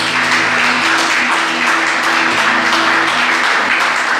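Applause from a church audience, loud and continuous throughout, with a sustained tonal hum or music underneath the dense clapping.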